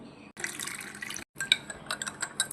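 Water poured into a glass for a salt and sugar drink, splashing and trickling in two bursts broken by a brief pause, with light glassy clinks near the end; fairly quiet and close, with no talking.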